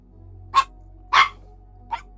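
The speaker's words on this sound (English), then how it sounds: "You've been barking too much at me." Three sharp barks from a pet dog named Ellie, two close together and a fainter third after a pause, indoors over a low steady hum.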